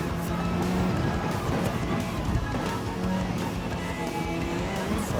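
Gran Turismo 7 race car engine droning steadily and loudly while braking and driving, a dense continuous roar with slight tonal shifts throughout.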